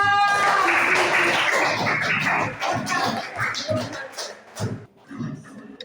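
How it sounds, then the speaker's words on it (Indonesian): Classroom applause for a student group after their presentation on making calligraphy from plastic drinking straws: a dense burst of many hands clapping that thins out and fades after a few seconds. "Tepuk tangan untuk kelompok Abdul Wahab"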